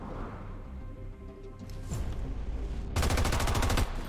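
Automatic gunfire from squad weapons in the modded tactical game XCOM 2: War of the Chosen. Bursts of rapid shots come in around two seconds in, then a louder, dense volley runs for about a second near the end, over ambient game sound.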